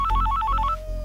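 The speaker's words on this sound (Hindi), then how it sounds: "सर माधवी जी का भी फोन आ गया" A mobile phone rings with an incoming call, a short electronic ringtone of rapid alternating two-note beeps followed by a single sustained tone, close and clear with no talk.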